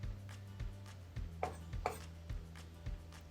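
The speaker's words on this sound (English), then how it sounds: "I'm going to coarsely chop 1 tablespoon of tarragon" Fresh tarragon being coarsely chopped with a knife on a board: about eight evenly spaced soft thuds over a low steady background hum.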